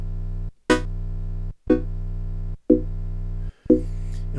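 An Airwindows Chord Organ synthesizer module plays a sustained low chord, retriggered four times in even succession, each note starting with a bright attack after a brief gap.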